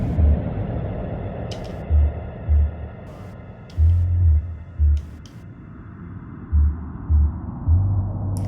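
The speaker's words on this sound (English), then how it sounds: "We've just got that heartbeat bass." A deep, synthesized heartbeat bass pulse in a mysterious film score thumps in irregular single and double beats over a low droning rumble, with occasional brief higher swishes.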